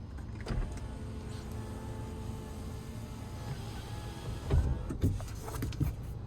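A motor whirs steadily as the sunroof of a 2025 Chevy Colorado ZR2 slides open in one touch, heard up close inside the cab, ending in a couple of soft clunks as it stops.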